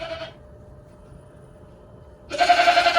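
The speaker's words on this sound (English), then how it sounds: "That's one of my goats talking to me." Goats in a barn bleat close by, one short call at the start and a longer, louder wavering bleat after a quiet pause.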